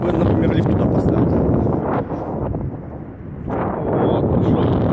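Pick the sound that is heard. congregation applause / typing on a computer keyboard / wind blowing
wind blowing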